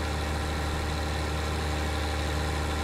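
Tractor engine in Farming Simulator 19 labouring under load, a loud, steady low drone with a constant, unchanging hum and no voices.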